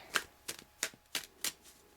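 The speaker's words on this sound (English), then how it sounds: "I'll give a couple more shuffles." Five or six quick, crisp riffles of tarot cards at steady intervals, close and quiet, with near silence between each burst.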